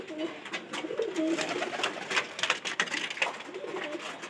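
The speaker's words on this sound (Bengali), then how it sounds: "এই যে আস্তে আস্তে নামতেছে সবগুলো কবুতর।" Pigeons coo softly in low, rolling calls as a flock slowly lands to feed on sesame, with light rustling and wing flutters nearby and a voice talking over them.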